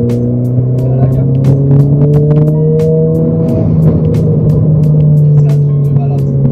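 A Renault Clio 4 RS sports car accelerates hard from the cabin, its engine note climbing through the revs in a loud, sustained drone, with sharp clicks and some voices underneath.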